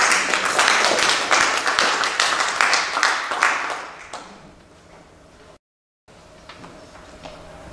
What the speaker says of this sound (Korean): 우리 회장님하고 부회장님 앞에 박수 한번 올려드리겠습니다.